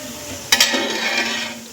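Green chilies frying in hot oil for poha chivda, a spatula knocking once or twice before a continuous bright sizzle, close and loud, with no one speaking.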